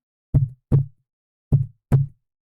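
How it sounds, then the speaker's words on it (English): A heartbeat sound effect sounds as two paired lub-dub thumps, each pair a quick double beat, separated by a pause, close and clear against silence. "But does this sound like a heartbeat?"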